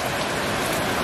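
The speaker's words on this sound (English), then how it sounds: "Rain update. This is what it's like at the moment." Heavy rain falls during Hurricane Hilary, a thick, constant rushing patter on surfaces close by, steady and loud throughout the short stretch with no talking.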